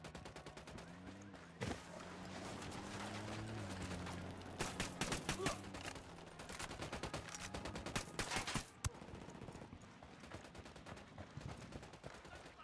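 Automatic rifle fire rattles in a tactical shooter, Ghost Recon Wildlands, in repeated bursts and single loud cracks across the scene, with a few quieter gaps and faint voices between the volleys.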